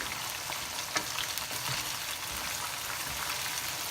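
Chicken strips frying in hot oil give off a steady, dense sizzle and crackle, close and fairly loud, with a few sharper pops standing out and no talking.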